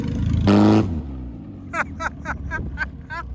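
A car engine revs briefly and loudly as it's put into forward gear, then settles to a low idle with a series of short squeaks or chirps repeating behind it.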